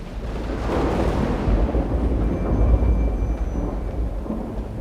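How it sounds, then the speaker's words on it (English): Deep, continuous rumbling roar of a thunderstorm, loud and steady throughout, with low booming swells and a rain-like hiss above. "as the storm raged on outside"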